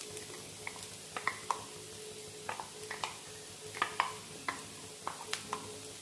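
Bitter gourd fry mixed with ground spice powder being stirred in a pan, irregular scraping clacks of a spoon against metal over a low, quiet sizzle, close and without talk.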